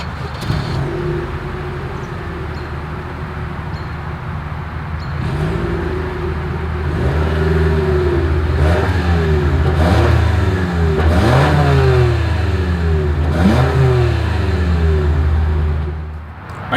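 A 2023 Toyota RAV4 SUV engine idles low, then revs repeatedly through the exhaust, each rise and fall rumbling loudly before it settles back.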